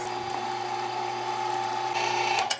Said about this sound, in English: Now that our meat is sufficiently chilled, through the grinder we go.